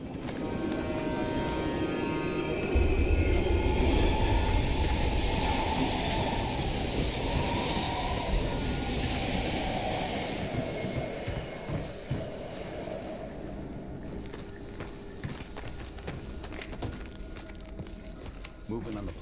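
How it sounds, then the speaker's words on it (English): A train rumbles past in the video game Call of Duty: Black Ops Cold War, loud and close, its heavy roar gradually fading, with voices talking over it and a game-like soundscape. "We can use a train to slip past."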